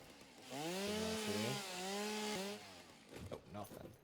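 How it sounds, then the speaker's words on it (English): Chainsaw revving in the video game Satisfactory, a loud whining motor tone rising and holding for about two seconds before cutting off, followed by a brief voice. "Pull out a chainsaw real quick."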